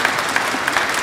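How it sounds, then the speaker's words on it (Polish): An audience at an evening carol concert applauds a six-year-old girl soloist, with dense, steady clapping from a full room filling the whole stretch at even loudness, with no voices. "Wielkie brawa dla Jagody"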